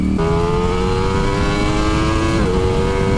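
A 2020 Ducati Streetfighter V4 revs hard in second gear on a straight road, its engine note climbing steadily in pitch for a couple of seconds, then dipping briefly before rising again, loud and close throughout.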